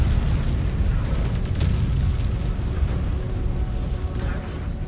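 A mech blows up in the video game MechWarrior 5: Clans, a sustained loud roar of explosions and booming blasts with scattered pops, dense and continuous throughout.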